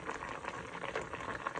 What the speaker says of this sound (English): I'm going to allow this to boil a little bit more because my mango is still hard